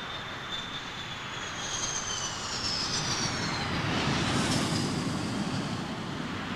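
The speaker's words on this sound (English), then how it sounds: "the massive Pratt & Whitney F-100 turbofan engines, part of the secret of the Eagle's phenomenal performance," Twin Pratt & Whitney F-100 turbofan engines of an F-15 Eagle spooling up to takeoff thrust on a runway, a loud steady jet roar with a rising whine that builds and holds throughout.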